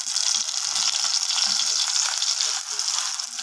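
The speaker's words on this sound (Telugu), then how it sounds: "ఇవన్నీ బాగా ఫ్రై చేసుకుందామండి" Onions and curry leaves frying in hot oil give a steady, loud, bright sizzle that runs unbroken throughout, with faint stirring scrapes underneath.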